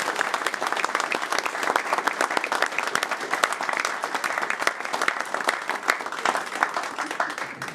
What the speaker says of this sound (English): You can applaud these guys.